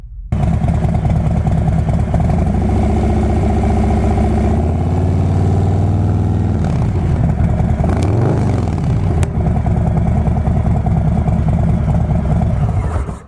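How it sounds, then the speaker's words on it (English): A 2018 Harley-Davidson Softail Low Rider with a Milwaukee 8 107 engine and a Vance & Hines 2-in-1 Pro exhaust rumbles loudly and close at idle. It gives a brief rev-up midway, then settles back into a steady, lumpy idle. No one speaks. "I'll go ahead and play this sound so you can hear what this pipe sounds like."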